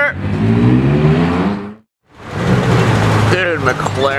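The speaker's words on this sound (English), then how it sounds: "Dude, McLaren GT." A McLaren GT sports car roars past at a track day with a rising engine note, then cuts briefly to silence; a second loud surge of engine noise and whine follows, close and strong.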